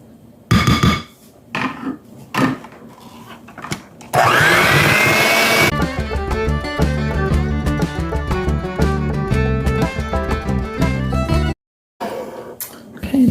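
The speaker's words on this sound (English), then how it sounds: "I'm going to do this with the mixer too." Electric mixer whipping a green lime dessert, loud buzzing motor running in long stretches broken by clunks and short pauses, close up with no talking.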